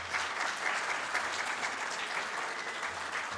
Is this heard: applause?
yes